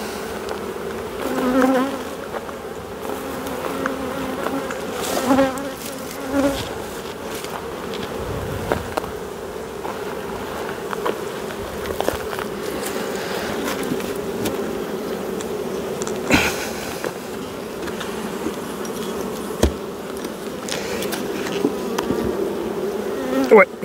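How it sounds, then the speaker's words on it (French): Honey bees buzz around an open hive for a long stretch, a dense, steady drone that is close and fairly loud, with individual bees swelling and passing near. "Ouais, il y a des abeilles."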